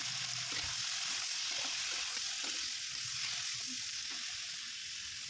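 Potatoes, flat beans and eggplant fry in a pan with a steady, loud hissing sizzle, broken by soft scraping and stirring sounds throughout.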